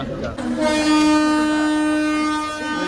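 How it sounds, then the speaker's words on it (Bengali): A long, steady train horn blares for about two seconds, loud and sustained, over the hum of busy Kharagpur station. "হর্ন মেরে দিয়েছে ট্রেনে।"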